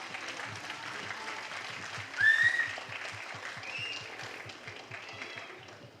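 An audience at a film trailer launch event claps in a soft, sustained ripple, with a brief whistle cutting through midway and a steady low rhythmic thump running underneath.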